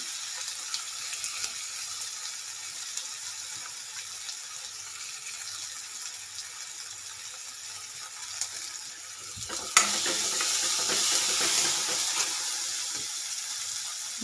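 A dried fish and tomato curry sizzles steadily in a pan while a spoon stirs it, the scraping and frying growing louder and brighter partway through, with no talking.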